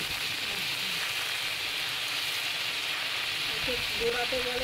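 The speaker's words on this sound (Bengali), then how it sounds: "নাড়াচাড়া করার পরে কেটে রাখা পালং শাক কড়ার মধ্যে তুলে দিচ্ছি।" Chopped spinach hitting a hot wok with prawns and mixed vegetables gives a steady, dense sizzle, like hard rain, that holds at even loudness throughout, with a few faint clinks near the end.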